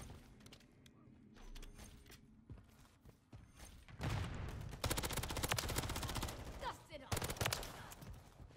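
Rapid bursts of automatic fire from a Rival 9 submachine gun in Modern Warfare III ranked multiplayer, with loud clustered volleys in the second half and quieter mechanical clicks and scattered shots earlier.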